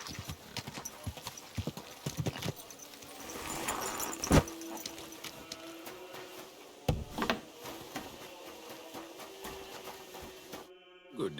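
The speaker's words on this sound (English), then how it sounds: "Easy, good horse." Hooves clip-clopping in the video game Kingdom Come: Deliverance 2 at an uneven pace with scattered knocks and thuds, a few sharper hits standing out, and a brief snort near the middle.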